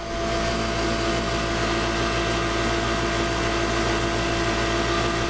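A modified DC motor drives the crank shaft of a 10 kW generator, producing a steady, loud mechanical hum and whine with a dense, unchanging drone throughout.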